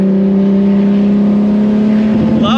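Nissan Skyline R34 GT-R with a modified exhaust and six-speed gearbox, driving: a loud, steady droning exhaust note holds a constant pitch close up, then rises slightly near the end.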